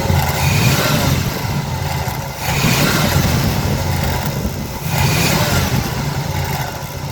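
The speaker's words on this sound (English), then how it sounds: "That little rattling noise that's coming from this alternator is getting bad." A Cutlass engine revving in repeated surges, loud and close, with a rough mechanical rattle from a loose, jumping alternator pulley running under the engine noise.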